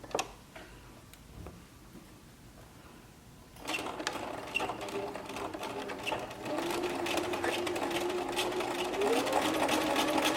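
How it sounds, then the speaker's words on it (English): Sewing machine with a single ballpoint needle and a regular presser foot stitching a seam in stretch swim knit spandex fabric. After a few seconds of quiet ticking it runs steadily, a close and continuous mechanical whir that grows a little louder toward the end. "Here the machine is threaded with a single needle. This is a ballpoint needle, and I have my regular presser foot."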